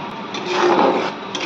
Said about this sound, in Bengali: এটাকে এখন মশলাটাকে ভালো করে কষাবো